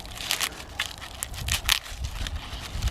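Hands break apart a big garlic bulb, giving a run of dry, papery cracks and crunches in uneven bursts, close and fairly quiet, with no talk.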